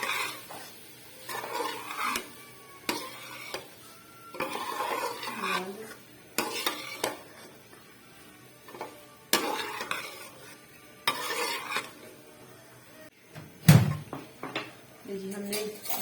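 Boiled macaroni stirred into a sizzling pan, bursts of scraping and clattering from the spoon against the pan between pauses, close, with someone talking in between.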